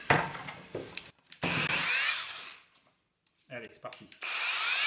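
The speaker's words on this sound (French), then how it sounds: "on va d'abord dégriser avec cette brosse-là, donc brosse en laiton" Brass wire brush on a power tool stripping metal in a Peugeot restoration demonstration, heard as loud bursts of harsh abrasive grinding broken by short pauses, with brief talk in between.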